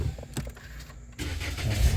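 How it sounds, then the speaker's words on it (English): A Toyota RAV4 being switched on inside the cabin: a brief start-up sound swells after a quiet moment and settles into a steady low engine rumble, close and fairly loud. "You have to turn the car on."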